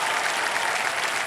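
Studio audience on a quiz show set claps steadily to welcome a group of comedians, a dense, bright wash of applause with no pauses across the short stretch.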